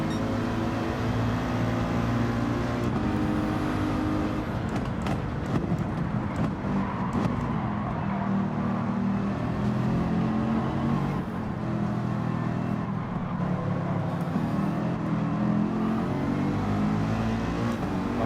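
Race car engine droning and revving in Gran Turismo 7, with a Peugeot race car among the cars on track, a steady loud engine tone with gear-shift changes and no talk.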